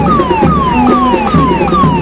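A fire brigade vehicle at a Republic Day parade on a parade ground sounds its siren loudly and close by. The wailing tone sweeps downward again and again in fast repeating cycles over a steady engine and crowd rumble.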